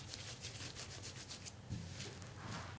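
A wet felt vessel being rolled in bubble wrap, giving a soft, continuous rubbing and scrubbing sound with a rhythmic swish, close and quiet, with no talk.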